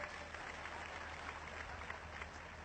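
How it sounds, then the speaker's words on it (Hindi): A crowd applauds steadily at a local gathering in Ballia, a dense and continuous wash of clapping heard from some distance. "जोरदार ताली बजा के इनका स्वागत करिए।"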